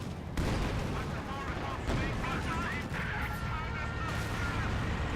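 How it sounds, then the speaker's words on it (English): Stuka dive-bomber air strike in Company of Heroes 2, a dense sustained roar of explosions and gunfire-like crackle with a sharp blast onset, loud and continuous throughout. "I call in another Stuka, this time on this solitary guy."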